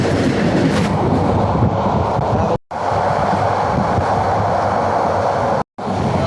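Inside a passenger train bound for Cox's Bazar, Bangladesh: a loud, steady rolling rumble of the carriage with two brief dropouts in the sound and no talking.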